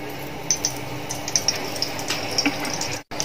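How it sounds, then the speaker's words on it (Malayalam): Cooking oil poured into a kadai makes a soft, continuous liquid trickle with a few small splashy drips, close and fairly quiet, before stopping abruptly near the end. "ഒരു കടായിൽ കുറച്ച് നമുക്ക് ഓയിൽ ഒഴിക്കാം."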